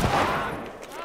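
A burst of gunfire in The Last of Us Part I, a sharp shot with a ringing decay, fairly faint and brief, mixed with game sounds.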